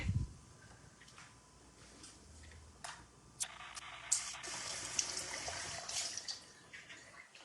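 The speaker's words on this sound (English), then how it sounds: "I'm also going to get my water started for my coffee." Tap water runs to fill a pot for instant coffee in a home kitchen, a steady hissing flow with drips and clinks, growing fuller partway through.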